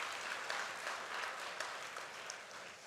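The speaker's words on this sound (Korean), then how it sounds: "우리 감사하다고 박수하겠습니다." A church congregation at a Sunday service claps steadily in thanks for two families' first-birthday offerings, with soft, continuous, even applause heard from a distance throughout.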